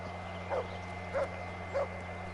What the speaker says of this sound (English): It could be another dog.